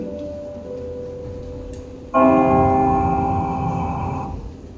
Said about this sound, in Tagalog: May bell tayo.